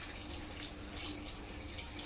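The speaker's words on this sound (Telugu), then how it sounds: "చూసుకొని గ్రేవీకి చూసుకొని వాటర్ వేసేసుకోవాలి" Water pours steadily into a pan of goat leg curry gravy, a soft continuous splashing stream with no voices.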